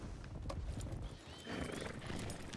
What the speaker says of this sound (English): Look at my new horse.